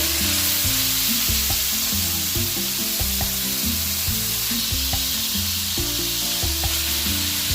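Cauliflower frying with onion and garlic in a pan for chop suey gives a steady, loud, close sizzle that runs throughout, over a low tonal background.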